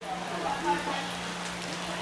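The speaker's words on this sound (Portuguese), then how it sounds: "Caindo uma chuvinha bem gostosa por aqui." Light rain patters softly and steadily, a faint, even hiss with a low hum beneath it.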